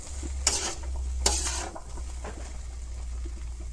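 Taro stolons being stirred in a pan with white sesame and peas for a Bengali stir-fry, with two short bursts of spatula scraping over a low steady sizzle and a faint clink later on.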